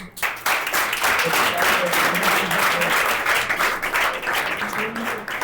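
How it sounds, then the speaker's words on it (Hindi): Audience applause at a school event, a steady wash of many hands clapping that holds loud and dense for several seconds, with faint voices mixed underneath. "सबसे पहले हमारे सर के तालियां।"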